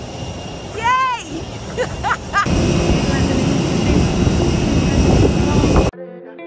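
Airplane cabin just after landing in Mykonos: a steady loud engine and airflow roar fills the space, with speech and chatter over it before it cuts off abruptly.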